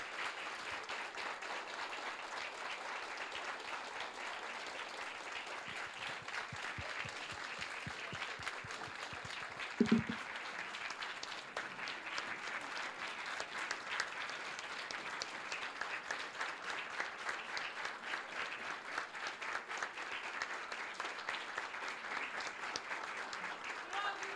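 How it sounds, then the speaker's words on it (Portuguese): Sustained applause from a crowd at a ceremony, a dense, even patter of many hands clapping throughout, with one brief thump partway through. "se pudesse dar uma salva de palmas ao pai da TIS"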